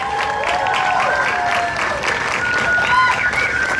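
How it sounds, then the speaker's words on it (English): A crowd applauds at a press event for a Walking Dead attraction at Universal Studios Hollywood. Steady clapping mixes with cheers and whoops, and voices rise above it. "Big round of applause for everybody."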